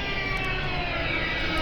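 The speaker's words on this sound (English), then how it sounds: "I want to get away from the airplane noise." Airplane noise in the video game KOTOR II: The Sith Lords, a steady roaring aircraft engine drone filling the scene without a break.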